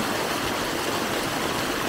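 Water pouring out through a sluice gate at the end of a permaculture swale, a loud, steady rushing stream heard up close with no breaks and no talking.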